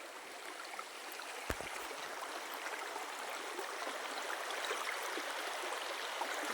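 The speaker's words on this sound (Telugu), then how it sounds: "వాటర్ మాత్రం ఎంత బాగా వస్తున్నాయో చూడండి" Water flowing steadily through a canal beside a cashew and mango orchard, a continuous broadband rushing stream sound, near and fairly even, with a brief knock partway through.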